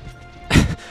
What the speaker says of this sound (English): he gets forward smashed